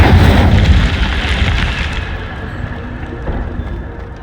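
Incendio fire spell cast in Hogwarts Legacy: a loud, heavy whoosh of flame bursts at once and then fades away over a few seconds.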